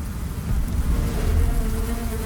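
A dense, continuous buzz of honeybees swarming and mobbing a giant hornet, a loud, close hum of many wings that swells slightly without letting up.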